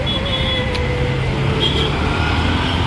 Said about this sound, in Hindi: ये देखो मुंबई में कितना ट्रैफिक है.